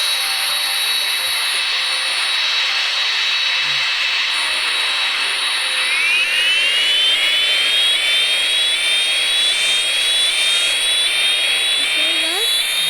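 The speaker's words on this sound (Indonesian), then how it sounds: "Nanti ini pesawat bom ya." A bomber plane's engine in a video game makes a steady high-pitched jet-like whine that rises and sweeps upward midway, moderately loud and continuous beneath occasional speech.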